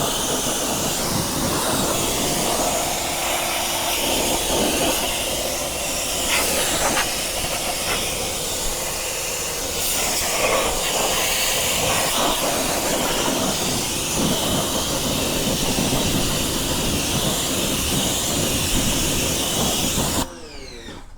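Steady, loud water-spray hiss rinses a wheel rim treated with wheel acid, running nearly unbroken for about twenty seconds before cutting off at the end.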